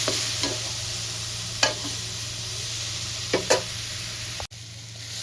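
Onion, ginger, garlic and green chili paste sautés in a pan for a wedding-style jackfruit and prawn curry: a close, steady sizzle broken by a few scraping spatula strokes as it is stirred, with no voices.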